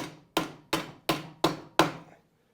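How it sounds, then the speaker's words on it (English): A hammer drives a motorcycle swing arm into place during bearing service, giving five evenly spaced, sharp, close blows, each ringing briefly before the next, with no talking. "I can just hammer this and"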